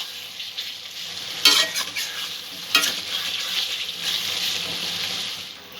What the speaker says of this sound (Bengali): মশলাটা একটু ভালো করে কষিয়ে নেব।